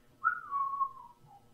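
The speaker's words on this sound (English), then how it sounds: "some sing-song whistling" A single short, bright whistle glides downward in a sing-song phrase, clear and alone against a quiet background.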